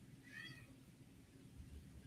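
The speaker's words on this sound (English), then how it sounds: "My cat is going ape outside my door, by the way." A house cat howls outside a closed door, a short muffled meow heard faintly through the door over a low steady background hum.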